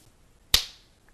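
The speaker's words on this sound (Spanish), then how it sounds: "Así, un chasquido de dedos." A single sharp finger snap rings out alone in a quiet room, crisp and close with a short decay.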